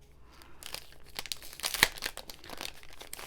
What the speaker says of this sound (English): I apologize if you don't like the crinkly sounds.